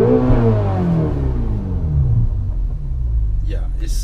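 The turbocharged engine of a 2016 Ferrari California T gives a deep, loud rumbling rev that slowly falls in pitch, heard close up with a person talking over it.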